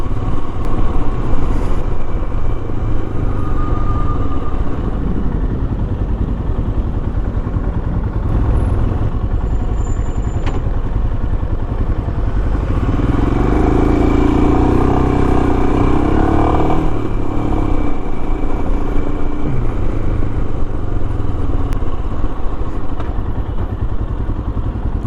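A Royal Enfield Himalayan motorcycle pulls away in second gear in London traffic, a steady close engine rumble that builds gently as it gains speed, with no talk.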